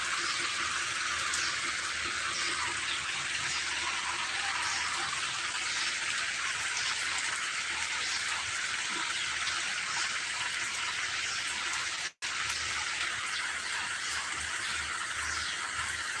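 Steady rain falls outside a house in Malaysia, a constant dense hiss of drops with no breaks except one brief cut, heard from nearby and with no one speaking.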